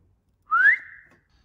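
A single short rising whistle from a person, clear and close in a quiet room, slides upward and then holds briefly before fading, while a battery is replaced in a Garmin Forerunner 735XT watch.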